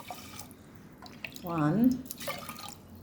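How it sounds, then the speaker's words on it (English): Water poured into a cooking pot of moong dal khichdi gives a short gurgling splash lasting about a second, close and moderately loud, while someone speaks briefly around it in a kitchen. "And now we will add water to this and we will cook our khichdi."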